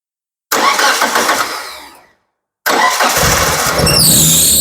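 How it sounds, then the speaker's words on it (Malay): A Proton Wira MMC 1.5 car engine is cranked and caught twice: a loud first start that dies away, a short silence, then a second start that settles into a steady running idle, close by and with no talk. "Oke, kereta telah berjaya dihidupkan"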